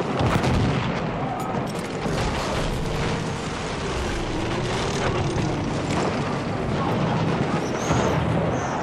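Battlefield 1 battle gunfire: a steady, loud wash of shots and booming blasts over a continuous rumble, with some muffled voice in the mix.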